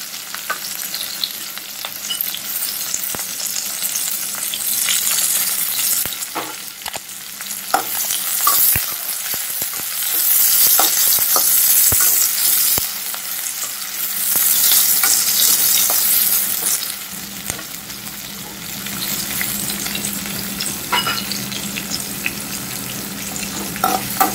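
Onions sautéing in a pan and being stirred with a spoon, giving a loud continuous sizzle broken by repeated scraping and clinking strokes, with no talk throughout.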